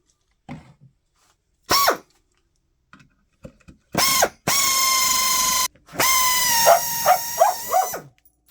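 A dog barks in sharp, loud bursts, some short and some drawn out into whining yelps, separated by brief silences and the faint whir of a hand drill with a 1/4-inch bit.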